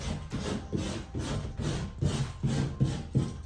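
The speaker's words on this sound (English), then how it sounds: "So you're gonna scrape that paint." Rhythmic back-and-forth scraping of old paint off a drywall surface with a hand scraper, a steady series of close, rough rasping strokes repeating about every half second, heard alone without speech.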